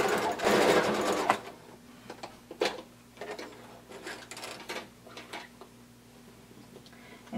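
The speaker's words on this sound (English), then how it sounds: "now we're going to sew the rest of the way down, also in that 5/8 of an inch seam allowance" A sewing machine stitches a jacket sleeve seam at a 5/8-inch allowance, with a dense burst of stitching at the start followed by short intermittent runs and pauses, close and alone.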